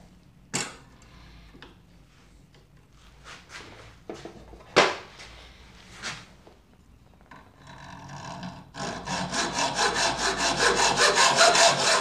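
A hacksaw cuts wood for a spice rack. It starts with a few scattered knocks and scrapes, then settles into fast, rhythmic back-and-forth strokes that grow steadily louder and close.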